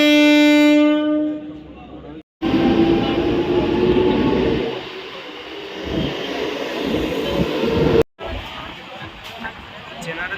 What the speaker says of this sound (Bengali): ট্রেন এসে দাঁড়ালো দেখো এখানে কিন্তু দু মিনিটের হয়